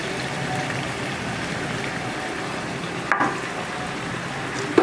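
Mutton frying in a pan as ginger and garlic paste go in, a steady dense sizzle throughout with a brief clatter near the end, close and fairly loud, no talking.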